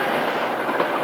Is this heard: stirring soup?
no